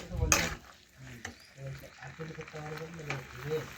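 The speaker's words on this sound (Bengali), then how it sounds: "এইভাবে নাড়াচাড়া করে দিয়ে রান্না করতে করতে জলটা আমি শুকিয়ে নেব" Peas are stirred in a pan as the water cooks off, with soft scraping and a gentle bubbling sizzle heard close up beneath a voice talking.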